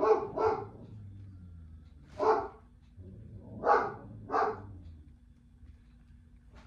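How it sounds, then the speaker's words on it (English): A dog barking at other dogs, five sharp barks in uneven bursts, two close together at the start and the rest spaced out, fairly near over a quiet background hum. "He sees dogs and he just starts barking."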